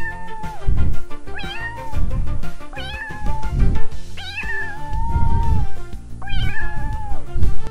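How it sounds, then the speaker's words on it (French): A cat meows repeatedly and loudly up close, a series of drawn-out rising and falling meows one after another over several seconds, with no talking. "Le chat fait."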